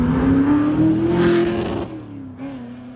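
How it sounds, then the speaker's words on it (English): A Ford GT sports car revs hard as it drives past, a loud rising engine note that peaks and then drops away as the car recedes, with a brief second surge near the end. "There's a Ford GT that drives past, and he absolutely tears it up the other way, and it sounds fantastic."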